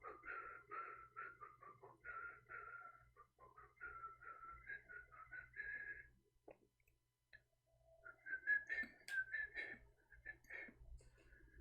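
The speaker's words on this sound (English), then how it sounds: "I'm whistling." A person whistles a wandering tune up close, with a short pause partway through before the melody resumes, over faint background hum.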